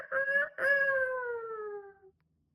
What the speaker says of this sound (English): I can hear my rooster, Elvis Presley, doing his little cock-a-dood